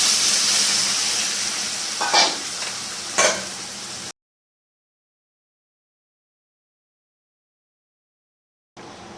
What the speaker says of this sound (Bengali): এবার ধনে গুঁড়োটা দিয়ে দেবো সেটাকে একটু কষে নেবো